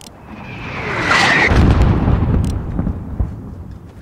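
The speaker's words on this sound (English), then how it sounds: "There's still a mortar out there." A mortar round in Call of Duty Modern Warfare lands with a rising whoosh and a heavy, booming blast, followed by a rumbling tail and debris crackle that fades out.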